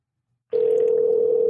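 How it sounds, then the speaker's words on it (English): A steady telephone dial tone starts abruptly after a short silence and holds level and loud while a call to a mother is being placed, with no voices over it. "We're making the phone call now."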